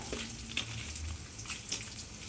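Curry leaves, coriander and dried red chillies dropped one by one into hot oil while making a mutton gravy, crackling and sizzling in short bursts, fairly quiet and close.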